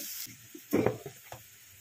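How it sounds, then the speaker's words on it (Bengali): Sliced onions frying in a pan for birista hiss quietly, then a louder burst of sizzling as they are stirred, followed by a few soft scrapes. "এখানে পেঁয়াজ ভাজা হচ্ছে, পেঁয়াজ বেরেস্তা"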